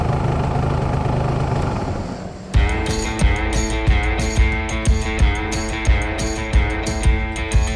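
1982 Yamaha RZ125 two-stroke 125cc motorcycle engine running close by, a sharp rattling buzz with rhythmic revs and pops after a brief muffled section at the start.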